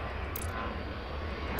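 A jet airliner in Airport Madness roars steadily as it comes in to land, a continuous broadband engine rumble, close and even, with no voices.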